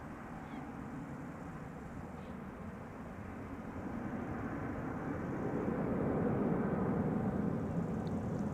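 An Airbus A321, about three years old, departs Amsterdam Schiphol Airport as a broad steady engine roar that swells slowly louder toward the end, heard from a distance with no talking.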